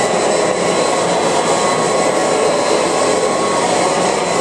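A Kirby Heritage II upright vacuum cleaner runs steadily, a loud, continuous broadband roar with a high whine that holds constant for the whole stretch with no talking.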